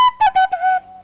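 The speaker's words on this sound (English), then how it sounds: "Oh, I got a little whistle as well." A little whistle plays a short, clear tune of a few distinct notes that ends on a held, fading tone, loud and close, with no talking.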